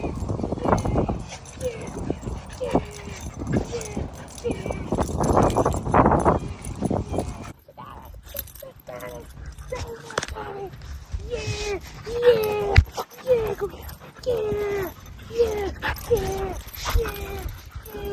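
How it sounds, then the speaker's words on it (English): An excited dog yips, whimpers and gives short barks over a mix of clatter and noise, with a person talking loudly and eagerly throughout. "There's the doggy!"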